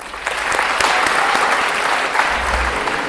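Steady applause from a crowd, dense clapping that holds at an even level throughout with no voices on top.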